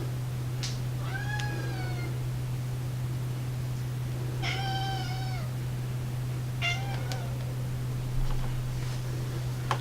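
A cat meows three times with drawn-out cries spaced a few seconds apart, over a steady low electrical hum during a PlayStation 3 repair.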